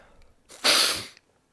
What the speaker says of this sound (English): Are you making me sneeze?